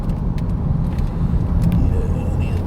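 A Volvo V70 car drives through a tight turn, its steady low engine and road rumble holding close and even throughout, with no talk.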